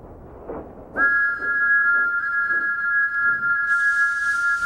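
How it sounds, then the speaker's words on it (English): A single long, sustained steam locomotive whistle blast echoing in a quarry over a low rumble, ending as a hissing burst of steam takes over. "Thomas's whistle echoes."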